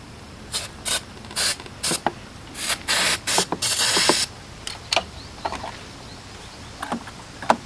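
Repeated short hissing bursts of starting fluid sprayed into the cranky carburetor of a 1984 Honda 200ES motorcycle, about a dozen quick sprays of varying length, close and fairly loud, with small mechanical clicks between them.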